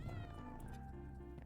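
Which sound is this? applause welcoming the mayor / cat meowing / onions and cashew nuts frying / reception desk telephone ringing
cat meowing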